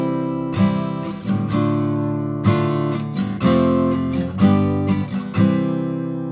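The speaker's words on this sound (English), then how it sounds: "if I were to play the same progression but with a perfect authentic cadence, it would sound like this" A chord progression on a keyboard instrument that closes on a perfect authentic cadence, with several sustained chords struck one after another in a measured rhythm and finally resolving to the root chord, played alone and clearly with no voice.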